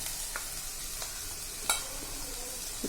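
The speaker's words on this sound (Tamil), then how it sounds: "இப்போ பொடியை கட் பண்ணியிருக்கிற பீன்ஸை சேர்த்துடலாம்." Finely chopped beans go into a pan of sautéed onions, and a quiet, steady sizzle of frying follows. Stirring adds a few soft clinks and scrapes.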